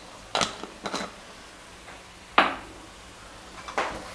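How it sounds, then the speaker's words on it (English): Cauliflower and peas tossed with garam masala and pepper in a pan, a few separate clattering scrapes of a spatula against the metal, close and moderately loud with quiet gaps between. "Give this a good mix."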